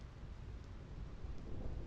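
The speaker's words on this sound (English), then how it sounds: "I hate lightning. I hate thunder." Thunder rumbles low and steady through a storm, blending with a continuous wash of heavy rain, a dense, even roar without distinct cracks.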